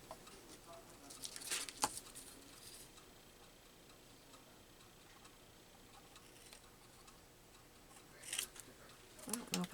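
Scissors snip paper for a collage in a few short clusters of crisp, close cuts, separated by quiet stretches with faint room noise.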